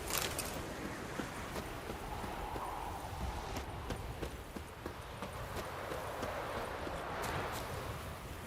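Horse hooves clip-clop in a steady rhythmic gallop in The Witcher III, moderately loud and continuous over faint outdoor ambience, with no talking.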